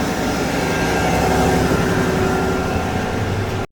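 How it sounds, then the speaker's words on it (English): A John Deere 9620Rx tractor engine warms up before a pro-till drag race, a loud, steady heavy diesel drone with a low rumble holding for several seconds before cutting off abruptly. "I'm just gonna go put some heat in this engine"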